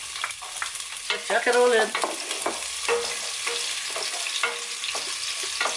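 Onion and garlic hit a hot pan for a corned beef curry, with a sizzle and a few scraping stirs, close, as a voice speaks briefly over it.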